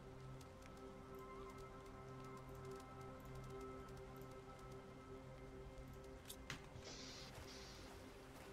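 Rain in the Planet Crafter video game, a soft steady patter of drops on surfaces under a low humming drone, faint and continuous with a few brighter splashes near the end.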